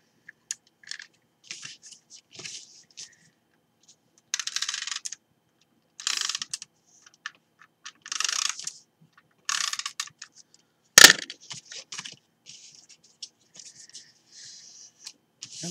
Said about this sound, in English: I might actually just put a bit of tape runner on it